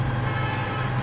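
An electric motor runs forward on a variable frequency drive at about 35 hertz, giving a loud, steady tonal hum with a droning low pitch and a hiss layered above, unbroken across the moment.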